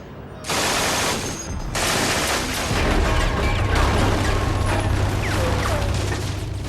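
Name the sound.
MG-42 machine gun firing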